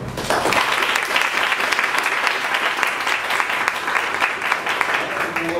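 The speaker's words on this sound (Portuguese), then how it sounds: "Gostaria de uma salva de palmas" Sustained applause from an audience at a university lecture hall honors a newly graduated master's student, a dense wash of many hands clapping continuously at steady volume for several seconds.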